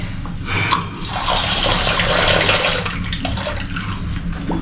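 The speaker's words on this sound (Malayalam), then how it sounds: "ഈ 3 ഗ്ലാസ് അരി നമ്മൾ ഇനി കഴുകണം." Rice being washed in a kitchen, about three glasses of grains sloshed and rinsed in running water, a loud splashing swell in the middle with softer trickling on either side.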